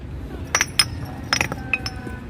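Old glass bottles, dug up from the ground, clink together in several bright, sharp knocks spread over a couple of seconds against a low rustling background.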